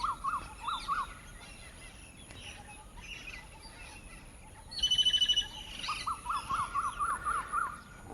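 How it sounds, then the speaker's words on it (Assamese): Birds call repeatedly in short chirping bursts among trees, with a brief rapid trill midway, over a steady outdoor hiss. "আৰু এইফালে চৰাই মাতটো শুনিছে চাগৈ সকলোৱে।"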